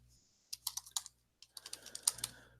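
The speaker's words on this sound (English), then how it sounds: "keyboard's going crazy" Rapid bursts of typing on a computer keyboard, crisp clustered key clicks in two runs separated by a short pause, close and clear over a faint low hum, with no speech.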